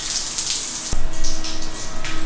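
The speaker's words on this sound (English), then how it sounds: "So this is the rain shower head, right?" Rain shower head in a luxury seaside villa bathroom in Costa Rica pouring water in a steady, close hiss, becoming louder and fuller about a second in as the flow strengthens.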